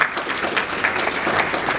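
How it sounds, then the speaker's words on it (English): Short burst of audience applause from high school students at an anti-bullying program with a Krav Maga demonstration, a brief patter of clapping with crowd noise. "You guys gotta give him a round of applause"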